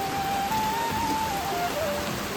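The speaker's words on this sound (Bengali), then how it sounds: "একভাবে এভাবে বৃষ্টি হয়ে যাচ্ছে" Steady rain falls outside, a dense continuous hiss of drops hitting surfaces that stays even and fairly loud throughout, with no voices.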